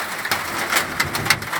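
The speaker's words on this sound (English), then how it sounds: "Hail maybe a centimetre across." Centimetre-sized hail and heavy rain drum on outdoor surfaces, with irregular louder impacts rising above a thick, constant downpour.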